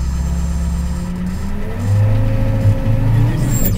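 A snow plow truck loaded with salt backing up, its engine droning steadily near and loud, then revving and climbing in pitch as it moves, with no talking over it.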